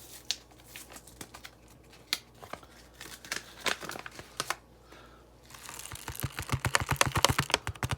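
Paper seed packets of Roma tomato seeds torn open by hand, giving a string of close, sharp rips and crinkles that grow busier and louder toward the end.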